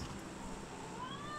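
A very vocal house cat meows close by, a single drawn-out, rising and falling cry over faint background noise.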